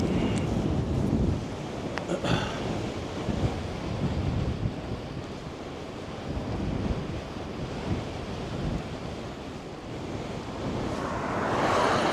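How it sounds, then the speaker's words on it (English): Wind buffeting a microphone while cycling into a strong headwind in New Mexico, a continuous low roaring rumble with gusty swells that stays loud throughout and has no voices over it. "especially with this headwind right now"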